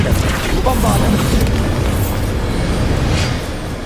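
A Bombarda explosion spell in Hogwarts Legacy bursts with a loud, sustained booming rumble that fills the whole moment, a dense blast that slowly tails off at the end.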